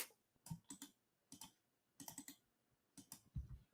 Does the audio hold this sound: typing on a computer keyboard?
yes